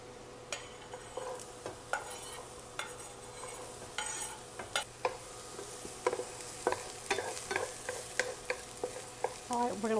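Chopped celery sautéing in a hot pan, a bright sizzle broken by frequent scraping and clacking strokes of a utensil stirring, close and busy, with no speech.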